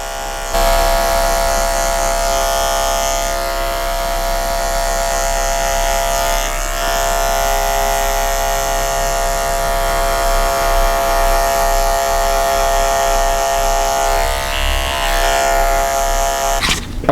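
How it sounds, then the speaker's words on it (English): An electric hair clipper hums loud and close while cutting a skin fade, holding one steady buzzing drone throughout with only slight changes in pitch as it rocks against the head, with no speech. "Take your clipper and slowly rock it in."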